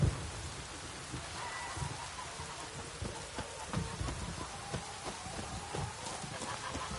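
Steady rain falls in The Witcher 3: Wild Hunt, a dense, even hiss of drops with faint scattered taps, quiet and continuous throughout.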